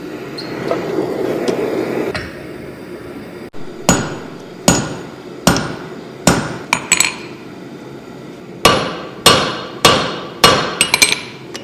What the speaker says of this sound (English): Take a heat and go back to the anvil.